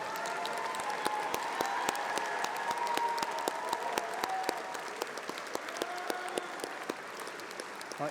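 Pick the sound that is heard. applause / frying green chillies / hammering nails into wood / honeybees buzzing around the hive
applause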